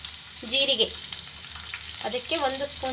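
Onion and cumin frying in a pan while a fish curry is prepared, a steady close sizzle and crackle running throughout, with stirring scrapes and a voice speaking over it in two short stretches.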